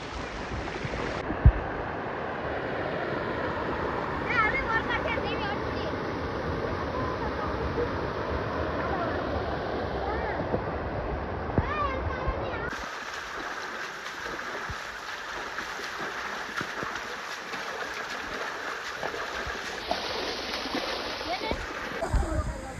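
Loud, continuous rush of floodwater from a burst pond after a day of nonstop rain fills the scene, churning and splashing close by with a voice talking over it.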